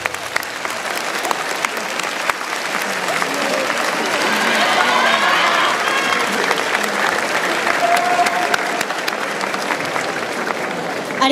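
An audience at a yosakoi dance contest in Osaka applauds steadily for several seconds, dense clapping with scattered cheers and shouts of support rising midway, fairly close and loud.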